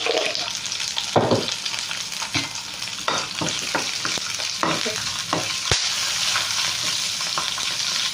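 Fresh curry leaves and cumin seeds sizzling in hot oil, a continuous crackling fry broken by repeated bursts of spatula stirring and scraping, close and fairly loud with no talking.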